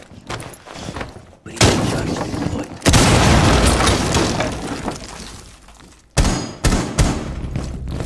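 Loud booming blasts and crumbling debris as a floor is blown apart by explosives in a tactical shooter, several heavy bursts with gaps between them and faint voice chatter underneath.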